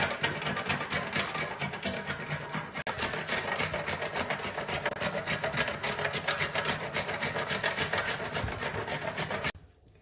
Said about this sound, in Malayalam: നമുക്കൊരു ഗ്രേറ്ററിൽ വെച്ച് ഒന്ന് ഗ്രേറ്റ് ചെയ്തെടുക്കാം